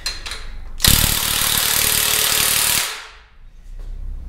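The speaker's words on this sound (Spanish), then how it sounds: "Si están utilizando una pistola de impacto como yo" A pneumatic impact wrench fires one sustained, loud hammering burst lasting about two seconds while loosening bolts on a VW 1.8L engine during a teardown, then falls quiet.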